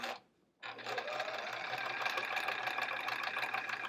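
A sewing machine stitching a quilt top starts after a short pause and runs continuously up close, with a fast, even mechanical chatter to the end.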